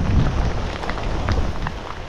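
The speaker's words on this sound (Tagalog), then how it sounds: "malakas na talaga ulan dito" Heavy rain pours down beside a rice-field canal where someone is fishing under an umbrella and raincoat, a steady close hiss with denser bursts of drops throughout.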